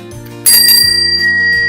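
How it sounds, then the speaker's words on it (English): A small hand bell kept in the home rings once, bright and close, with a sustained metallic tone that rings on over a steady low background hum. "I'll be able to use that bell clearly when I require tea"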